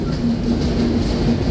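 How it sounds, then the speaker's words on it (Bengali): Benapole Express passenger train rolling into Jessore Junction railway station, a steady, loud rumble of wheels and carriages with a faint sustained squeal running through the whole short stretch, no voices. "ট্রেনটি প্রবেশ করছে তার 2 নম্বর যাত্রাবিরতি স্টেশন যশোর জংশন রেলওয়ে স্টেশনে।"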